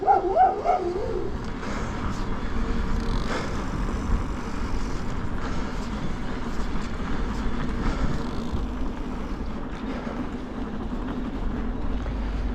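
Dog barking from a guest house gate in Massandra, Crimea, on a road route toward Ai-Petri: a few sharp barks near the start, then fainter yapping under steady rumbling road noise.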